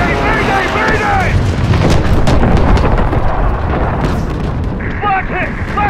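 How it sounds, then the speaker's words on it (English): Anti-aircraft flak bursting around a plane in Call of Duty WWII, a dense, continuous roar of booms and rumbling that pounds steadily throughout, with radio-like voices calling out over the din. "Flak hit. Left engine is out."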